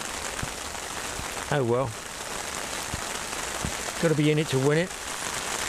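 Steady heavy rain pours down during a thunderstorm at a catfish fishing spot, a dense continuous hiss that runs through the whole stretch while someone speaks briefly twice over it.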